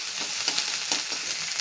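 Ginger garlic paste fries in hot oil in a pan, making a brief, steady hissing sizzle up close with a few soft stirring scrapes, and no one speaking.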